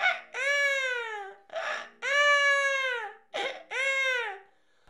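A voice imitates a crying baby in beatbox style: three wailing cries, each a short catch followed by a drawn-out falling wail, loud and close with brief pauses between them.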